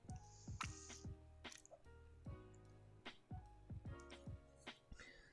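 Quiet, close sips and swallows of water, with small wet gulps and clicks in a short irregular sequence, no talk.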